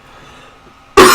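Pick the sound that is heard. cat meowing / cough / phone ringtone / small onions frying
cough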